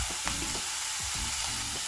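Mixed vegetables for Indian-style masala pasta fry in a pan, a steady close hiss of sizzling with faint stirring underneath, no voices.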